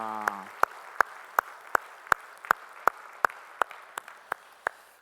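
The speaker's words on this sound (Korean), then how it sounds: "주님께 영광의 박수 올리겠습니다" A steady, rhythmic clapping, about a dozen sharp claps in an even beat, as a church congregation claps together in unison.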